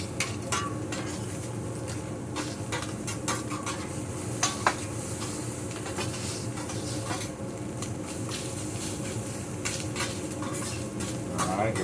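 Rice stir-fried with oil and eggs in a pan, with continuous close sizzling and frequent scraping, clinking stirs of a utensil against the pan in an irregular rhythm.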